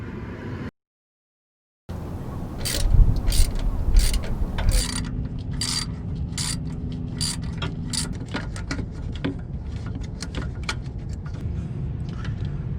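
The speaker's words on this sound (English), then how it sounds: "So there are only two screws to take out." A ratchet wrench clicks in rapid repeated bursts while backing out screws during a Jeep Wrangler fog light install, close and fairly loud over a low mechanical background, after a brief silent gap.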